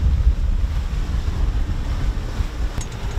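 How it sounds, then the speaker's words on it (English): Big ocean waves and wind out at sea about nine miles off Marathon, Florida, heard from a boat as a rough, continuous low roar with heavy wind buffeting the microphone and no talking. "Some big boy waves out here."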